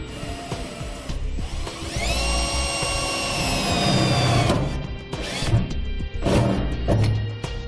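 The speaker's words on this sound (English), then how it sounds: "we're gonna make a pilot hole using a 1/4 inch drill bit." A power drill with a 1/4 inch bit bores a pilot hole for a fifth wheel hitch installation on a 2018 Ram 2500, whining loudly and steadily up close, then grinding and clattering in bursts as the bit bites and stops.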